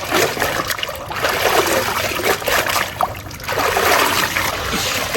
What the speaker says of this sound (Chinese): 洗好再给它涮一下